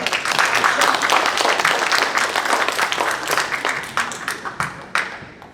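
Church seminar audience breaks into warm encouraging applause, a dense burst of many hands clapping that gradually thins and fades toward the end.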